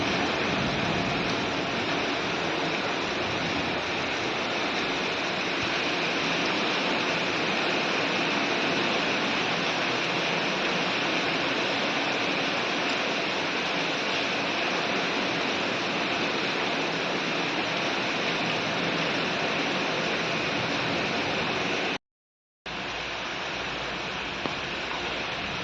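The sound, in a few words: heavy rain pouring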